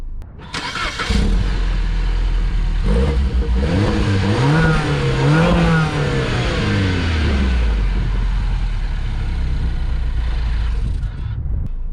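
A 2015 MINI Cooper Countryman S ALL4 with a 1.6-liter turbocharged four-cylinder and six-speed automatic starts up, then revs and accelerates with a rising, falling engine pitch, loud and close, settling back toward idle before cutting off.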